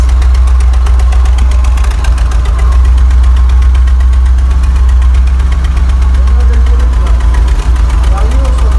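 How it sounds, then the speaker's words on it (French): A Ford Scorpio's engine holding a steady idle after its fuel pump has been repaired, producing a loud, constant low rumble with a faint ticking running through it, close to the listener. "Ça y est, elle tient le ralenti."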